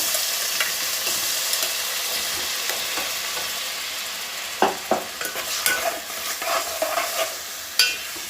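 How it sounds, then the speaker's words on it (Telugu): Tomato pieces fry and get stirred in a pan for a coriander-tomato chutney, a steady close sizzle broken by several sharp scraping stirs in the second half, with no talk. "ఇప్పుడు ఏం చేస్తానంటే టమాటా ముక్క గిన్నెలో వేస్తానండి"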